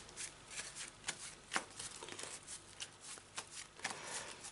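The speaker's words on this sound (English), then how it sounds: "To give it a proper decent shuffle." Card shuffling of a 40-card Yu-Gi-Oh deck, a steady run of soft riffling flicks and slaps about every half second, close and fairly quiet with no talking.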